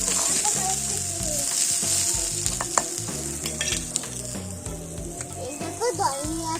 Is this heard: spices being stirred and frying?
yes